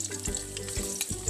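Garlic sautéing in a pot, a steady close sizzle of frying with a few soft stirring sounds through a short moment.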